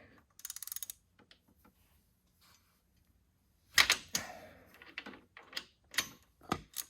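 A socket wrench ratchets in quick clicking bursts while bolts are turned during installation of Outback Motortek crash bars on a 2022 BMW F850GS, close and fairly faint, with short metallic clatters and tool handling between the bursts.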